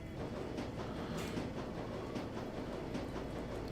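Train ride in the Shadowrun: Dragonfall game, a continuous rolling rumble with faint rhythmic rail clatter, steady and moderately loud without any speech.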